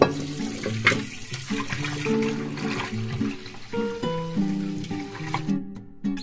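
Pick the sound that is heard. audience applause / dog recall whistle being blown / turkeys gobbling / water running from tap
water running from tap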